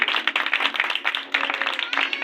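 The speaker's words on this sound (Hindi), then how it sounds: "शाबाश, जोरदार तालियां बजाइए अपने लिए।" An audience in a church claps together in a dense, steady round of applause, close and lively with rapid overlapping hand claps filling the short stretch.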